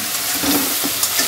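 Black peppercorns tossed into a pan of sizzling food, with a steady fry and stirring scrapes over a short, fairly loud stretch.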